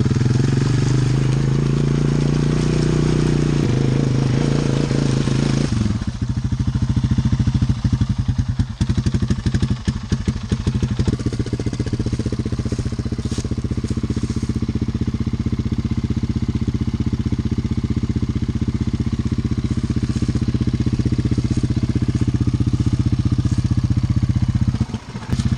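Honda 300 ATVs on Zilla tires running with a loud, continuous engine drone that stays close throughout, shifting in pitch early on with some clattering as they rev and pull.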